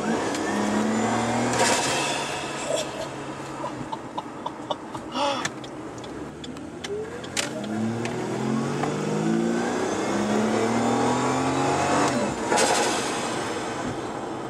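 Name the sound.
car engine with cold air intake accelerating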